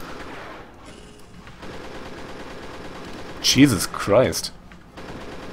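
Chain gun fire aimed at a crowd of imps in Pirate Doom, a loud, sharp burst of rapid shots in two clusters, with a voice speaking briefly over the game's quiet background.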